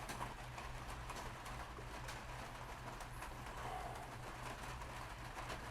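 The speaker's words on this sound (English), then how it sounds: "It's been raining steady for about 45 minutes." Steady rain falling outside a porch, a continuous even hiss with no heavy downpour, faint and constant, with a low steady hum underneath and a faint bird call.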